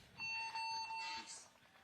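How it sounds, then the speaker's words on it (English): A big buzzer sounds over the speaker system at a paintball tournament field, a short, fairly faint electronic tone in two bursts heard at a distance. "All right, we heard a big buzzer."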